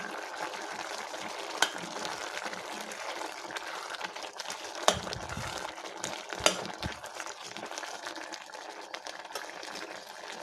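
Tamil Nadu sambar cooking in a pot, with a steady bubbling, sizzling wash and a few sharp clinks near the start and middle; no voices.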